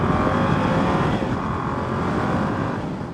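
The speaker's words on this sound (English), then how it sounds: "a peppy bike, just slowly getting up to some speed now and then taking some turns." A Yamaha YZF R7 motorcycle pulls away and gains speed, its engine a loud, continuous drone heard from the rider's position, with wind rushing over it and a slight rise and fall in pitch.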